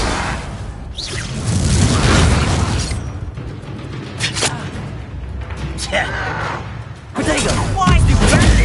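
Repeated booming fire-spell blasts from a Hogwarts Legacy battle on PS5, each burst landing over a dense layer of game effects, with voices talking through most of the stretch.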